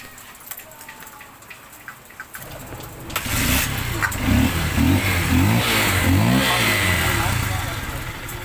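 A Honda XR 150 motorcycle with a rough-running engine is kick-started after a few kicks, then catches and idles loudly with a rhythmic, knocking rumble and some revving; a person talks early on.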